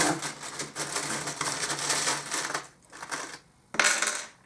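Small metal tarot charms pour out onto a surface in a close, jingling cascade. The clinking clatter comes in bursts with a brief pause before a final sharp rattle, and no one speaks.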